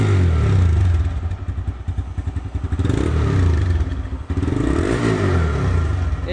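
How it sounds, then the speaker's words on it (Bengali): A TVS Raider 125cc motorcycle engine runs steadily up close, a loud continuous throb with a rhythmic low pulse throughout and no talking. "এটি হচ্ছে টিভিএস রাইডার 125 সিসি বাইকের ইঞ্জিনের সাউন্ড"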